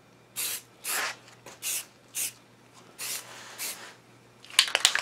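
Spray primer is sprayed onto bolts in several short, loud hissing bursts with brief pauses between them, close up, followed by a few faint clicks and rattles at the end.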